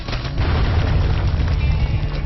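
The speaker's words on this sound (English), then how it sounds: "Yep, got nice little baneling hit there with baneling bombs" Baneling bombs exploding in a StarCraft match, heard as a loud, dense, sustained rumble of booming blasts running continuously through the moment.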